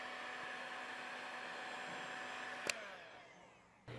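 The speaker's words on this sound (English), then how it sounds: "use a heat gun to heat shrink the butt connectors" A heat gun blows a steady, close broadband hiss while heat-shrinking butt connectors on cab light wiring for a third-generation RAM truck, with a brief click near the end and no talk.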